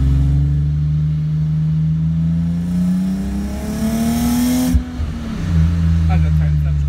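A car's engine revs hard while driving, loud and close, pitch climbing steadily then dropping sharply before settling back to a steady drone; the car has FK street suspension and steering lock spacers.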